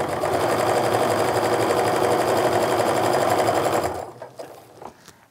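A sewing machine stitches a quilt block seam in a loud, fast, even mechanical hum for about four seconds, then stops, leaving a few soft handling clicks and rustles.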